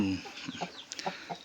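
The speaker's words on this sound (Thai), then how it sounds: "วันนี้พามาชมไก่หนุ่มครับตัวนี้" A young rooster gives a few soft, scattered clucks close by, short chirpy calls spaced over a second with quiet gaps between.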